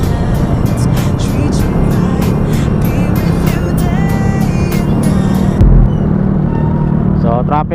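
Dense road traffic in Antipolo, with car and motorcycle engines humming and passing close by in a constant loud wash, a rider's voice talking over it.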